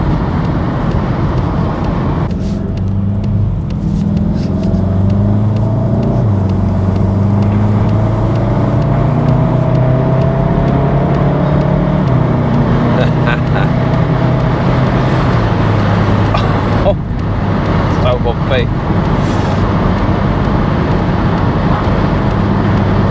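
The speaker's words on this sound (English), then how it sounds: "Such an easy drive, this car, it really is" Steady, loud road noise inside a VW Mk7.5 Golf GTI or Golf R on the move, a continuous engine and tyre rumble with a few brief higher swells and no talking.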